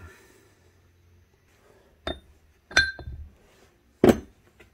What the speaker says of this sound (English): we'll use a brass hammer here to tap it on out.